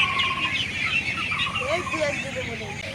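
Farm ducks, a flock of about three hundred, calling and chattering over a steady background of outdoor noise, several birds overlapping at moderate distance.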